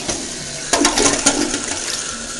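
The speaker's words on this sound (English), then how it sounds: "So I'm going to give it a flush here" Kohler canister toilet flushing fast: a sudden rush of water after a brief pause, surging and gurgling for about a second, then settling into a quieter trickle, close and clear.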